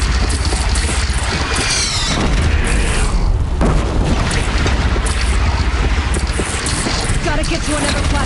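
Booming cannon blasts roar in Horizon Zero Dawn amid dense, loud battle noise and rumbling, with voices shouting over the chaos.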